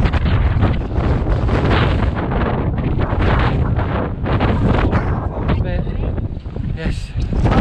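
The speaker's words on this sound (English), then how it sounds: "it's even more windy here" Strong wind buffets a microphone outdoors during a Sussex cycling trip, a loud, continuous roaring rumble with gusting surges throughout.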